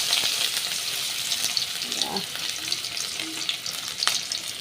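Onions sizzle in hot oil in a wok over high flame, a steady crackling hiss with a few stirring scrapes and faint background noise.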